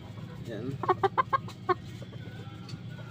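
A Boston Kelso gamefowl hen, eight months old, gives a quick run of about five sharp clucks, close by, over a low steady background hum.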